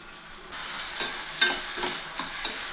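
Sliced onion with mustard and fenugreek seeds frying in hot oil, a steady sizzle with a few soft stirring scrapes near the pan, no voices.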